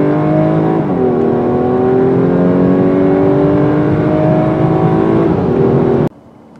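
Audi A5 Sportback with a turbocharged 2-liter four-cylinder, heard from inside while driving: a steady, loud engine drone that dips briefly with gear changes, then cuts off abruptly.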